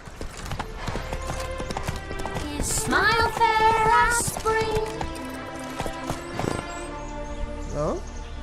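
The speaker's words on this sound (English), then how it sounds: "Aqui já vale chamar o cavalo." Galloping horse in The Witcher 3 on PC, a steady clip-clop of hooves under game music and sound effects, with an occasional whinny near the end and speech mixed in.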